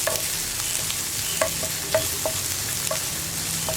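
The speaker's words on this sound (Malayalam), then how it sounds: "ഇതെല്ലാം ചേർത്ത് നന്നായിട്ടൊന്ന് വഴറ്റിയെടുക്കുക." Onions sizzle steadily in a hot pan while a spoon scrapes and stirs in several short, uneven strokes.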